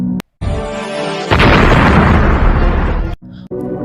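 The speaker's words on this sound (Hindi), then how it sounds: "फिर अचानक एक धमाका हुआ।" A single loud, booming explosion erupts and roars for about two seconds, then cuts off abruptly.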